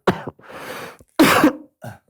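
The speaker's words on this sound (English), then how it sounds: "he has a little bit of a cough" A man coughs in a room, a few sharp bursts in quick succession, loud and close, with no talking over them.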